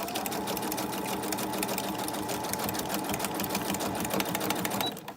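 A sewing machine stitches through paper in an altered book, a fast continuous rattle running steadily, close up and loud, before stopping abruptly near the end.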